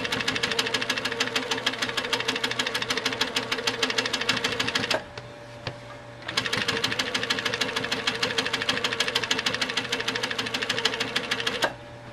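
Sewing machine stitching in the ditch through a quilt block, a fast steady run of needle strokes close by, a brief pause near the middle, then stitching resumes at the same even pace.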